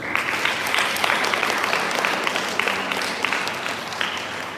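Seminar audience breaking into steady applause, a dense wash of many hands clapping at an even level throughout with no voices rising above it.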